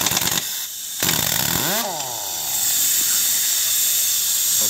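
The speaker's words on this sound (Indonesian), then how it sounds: "sudah selesai dibuka baut rodanya menggunakan impact ya, atau mesin pembuka baut yang menggunakan tenaga angin" An air-powered impact wrench at a tire shop loosening wheel bolts: loud hissing bursts and a whirring spin that rises and falls in pitch, then a steady rush of air, with no talking.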